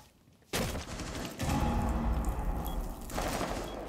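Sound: shotgun firing in a video game

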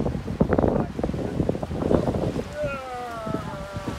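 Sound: wind blowing at the seaside

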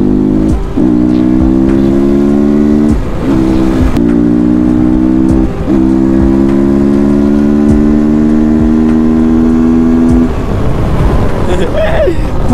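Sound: dirt bike engine on off-road ride

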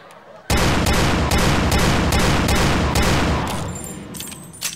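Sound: Colt Python revolver shots and reload in a video game

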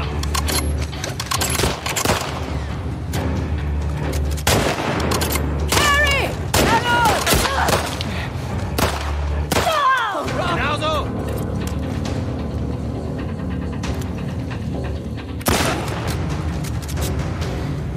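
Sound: gunfire in the video game The Last of Us Part II

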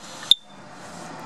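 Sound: smoke alarm low battery beeping

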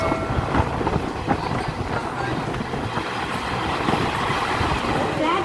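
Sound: VSG-SHM 18048 express train running on tracks

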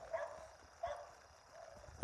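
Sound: bulldog barking

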